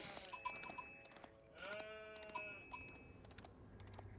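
Sheep bleat in the real-time strategy game Age of Empires IV, several wavering calls overlapping against faint game ambience and a few light clanks, moderately distant and not very loud, with no talk.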